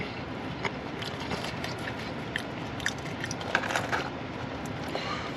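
Someone biting and chewing fast-food fries, a steady close-up munching with a few soft crisp bites standing out, continuous and fairly quiet without talk.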